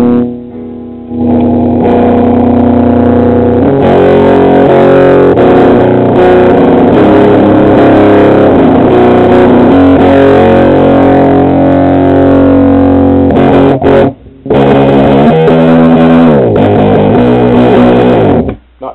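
Loud, heavily distorted electric guitar through a Marshall 5010 amp, sustained chords ringing continuously with a brief break near the end before the playing resumes.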